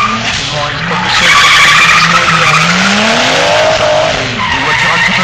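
A drift car slides on a race track circuit, its tires squealing in a long continuous skid over a loud engine drone, while an announcer's voice can be heard.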